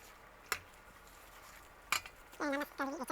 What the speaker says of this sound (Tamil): கீரையை சேர்த்து ஒரு கிளறி விடணும்.